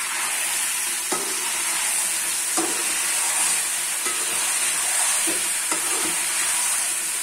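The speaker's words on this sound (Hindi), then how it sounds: "आलू भी अच्छी तरह फ्राई कर लेंगे। आलू भी भून लेंगे" Potatoes fry in a pan for a Pakistani green chickpea salan with chicken, giving a steady close sizzle broken by a few soft stirring scrapes and knocks, with no talking.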